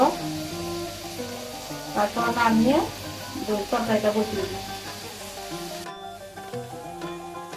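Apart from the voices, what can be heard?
ridge gourd and potato frying in a pan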